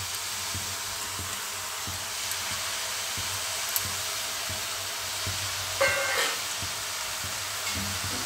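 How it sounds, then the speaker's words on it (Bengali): Mixed vegetables with chopped tomato and coriander leaves sautéing in a pan, a steady close sizzle with soft rhythmic stirring scrapes and no talking. "এটা আমি কষিয়ে নেই"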